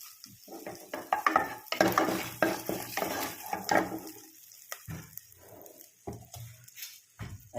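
Cinnamon, cloves, cardamom and bay leaf fry in oil in a pan, a quiet, uneven sizzle mixed with intermittent scraping and stirring sounds up close.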